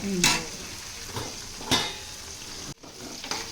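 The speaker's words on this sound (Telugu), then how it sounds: "ఉల్లిపాయలు వేగినట్టు ఉన్నాయి కదా, ఇప్పుడు టమాటాలు వేసేస్తావా?" Onions sizzle in a pan as the base for a home-cooked fish curry, with a steady frying hiss broken by a few sharp scraping stirs and a brief dropout near the end; no one talks.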